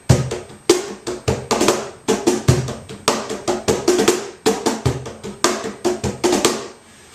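Crisp hand strikes on a cajon play a steady, clipped rhythm of short slaps and deeper bass thumps, close and clear.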